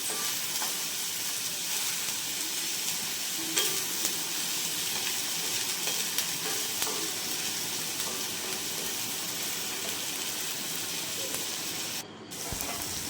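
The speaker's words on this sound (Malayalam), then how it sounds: "ഇനി അത് ഇളക്കി ഇച്ചിരി നേരം വെണ്ടയ്ക്ക ഒരു ബ്രൗൺ കളർ ആവാൻ വേണ്ടി വയ്ക്കാം." Okra with turmeric powder frying in a pan, a constant close sizzle and hiss of hot oil with faint occasional stirring, dipping briefly near the end before resuming.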